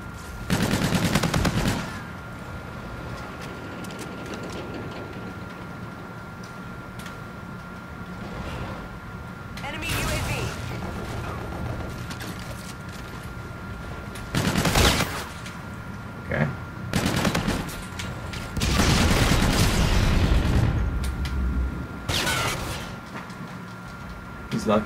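NV4 Flatline rifle gunfire in a video game, several loud rapid bursts spread across the stretch over steady background game noise, with someone talking in between.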